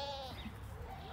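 A goat at a petting farm gives a short, wavering bleat, close and moderately loud over steady background noise, lasting about a second.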